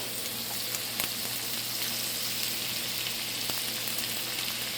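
Butter sizzles steadily in a hot pan before a New York strip steak goes in, a dense, even crackle with scattered pops, close and unbroken.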